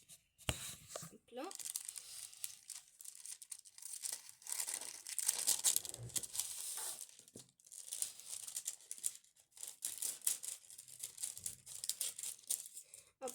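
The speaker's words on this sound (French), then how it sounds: "Je vais découper un petit carré, un petit peu de ce papier cuisson." A small square of baking paper cut and handled at close range, crisp crinkling and tearing rustles with a sharp tap at the start, under intermittent speech.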